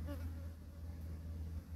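A honeybee moves among flowering plants, its faint, steady buzz humming low and continuous under quiet outdoor background noise.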